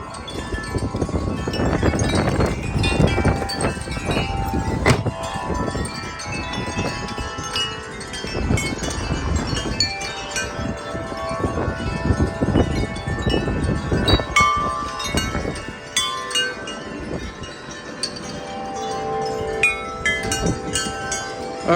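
Powerful wind gusts roar and buffet a microphone outdoors on a stormy day, surging and easing in long waves of loud broadband rumble and rushing hiss, with occasional rattles and clatter mixed in and no voices.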